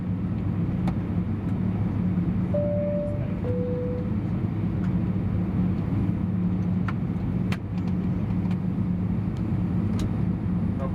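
Steady engine and cabin rumble from an Air Canada Airbus A321 during pushback, de-icing and departure off runway 06 left, continuous and fairly loud inside the cabin, with a couple of brief chime-like tones early on.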